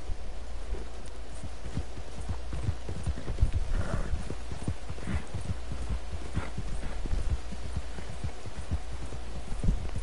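Horse hooves clip-clop steadily over ground in Red Dead Redemption II, an even rhythmic trot of soft thuds close by, over a constant low ambient hum.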